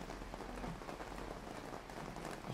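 Rain falls steadily on an outdoor congregation at a Sunday Mass, making a dense, even hiss of drops that carries on faintly throughout with no speech.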